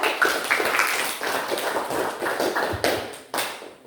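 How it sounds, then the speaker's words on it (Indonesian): Applause from a classroom of students for a presenting group, dense clapping that holds steady for several seconds before thinning into a few last claps. "Oke, berikan aplaus kepada kelompok 3."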